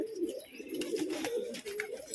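Soft, low pigeon cooing repeats in a gentle rolling rhythm, with faint chirps and light background noise.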